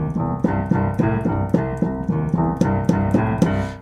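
A piano plays a swung boogie woogie left-hand pattern, a steady repeating bass figure with evenly spaced accented notes, loud and close with no voices.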